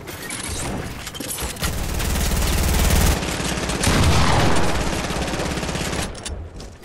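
Sustained rapid gunfire from an opposing team in a video game, loud bursts and volleys running almost the whole stretch with dense overlapping shots.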